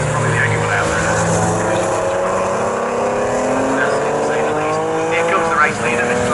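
Porsche Boxster race cars at Snetterton, a loud engine drone shifting pitch as a car passes, with a race commentator talking over it throughout.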